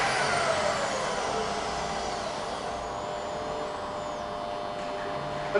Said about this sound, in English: powering up the X-axis power feed. That's variable speed.